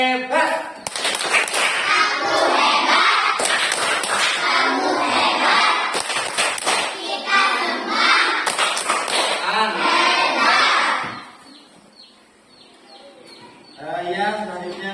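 A class of children in an Indonesian classroom performs a rhythmic clapping chant. Loud, sharp claps fall in patterned bursts with chanting voices for about ten seconds, then stop, and a voice follows.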